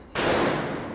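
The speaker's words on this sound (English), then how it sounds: "this is the only type of shooting that I can do with this Galil Ace" A single sharp gunshot from a Galil Ace 5.56 rifle, loud and close, bursting abruptly and then ringing out in a long decaying echo.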